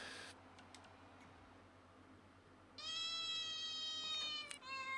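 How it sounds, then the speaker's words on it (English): A cat meows twice in quick succession, a clear, fairly close, drawn-out call with a shorter follow-up, over a quiet background hiss. "Meow indeed."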